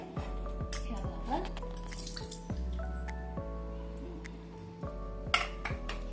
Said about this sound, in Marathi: तर मी आता ह्याला एकदा धुवून घेते थोडंसं पाण्याने